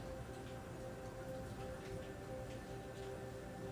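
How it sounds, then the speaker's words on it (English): Heavy, pouring rain falls outside as an even, constant hiss, faint and distant as if heard from indoors, with no voices. "It is pouring rain right now,"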